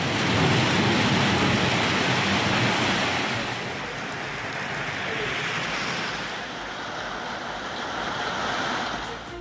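Heavy rain during a thunderstorm in Tamil Nadu, a loud, steady broadband hiss and roar that eases slightly partway through, with no distinct thunderclap.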